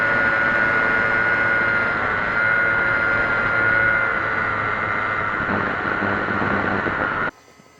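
A home-built long-range fixed-wing cargo drone cruises at altitude, its motor giving a steady droning whine with a constant high tone, loud and unbroken until it cuts off abruptly near the end.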